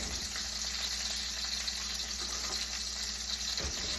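Steak frying in a pan, a steady hissing sizzle at constant low level with faint crackles, continuous and alone.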